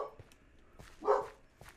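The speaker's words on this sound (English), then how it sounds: "That's the dogs." Dogs in a Minecraft game give a few faint, short barks, with one louder yip near the middle, among quiet background noise.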